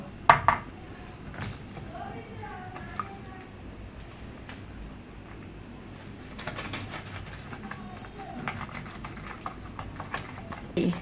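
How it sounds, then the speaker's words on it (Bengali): Milk is whisked into cake batter in a bowl, giving quiet, irregular clinks and scrapes of utensil against the bowl, faint and close, with a few louder knocks. "গাইস আমি এখন সুন্দর করে ফেটে নিচ্ছি"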